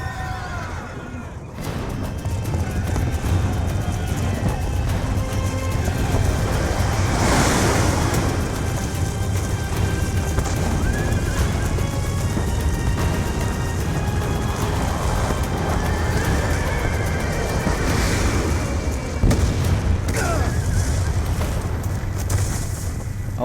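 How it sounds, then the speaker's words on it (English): A horse neighs and gallops amid a battle scene in the Black Ops II video game level Siege of Khost, with a steady roar of wind and rumbling noise running throughout, loud and continuous, with bright whinny-like bursts rising above it. "Oh no, the horse."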